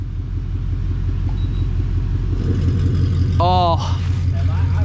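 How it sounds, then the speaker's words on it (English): A 2024 Mustang GT base model fitted with a full aftermarket active exhaust gives a deep, steady, loud idle rumble close by, and a voice briefly exclaims over it. "We have a base model non-active car that has an insanely good sounding active exhaust now"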